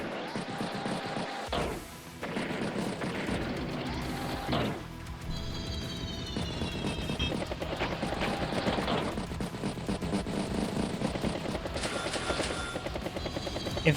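Battlecopter units in the Advance Wars video game, a steady rotor-like drone with crashing and gunfire-like bursts layered over game music, loud and continuous throughout.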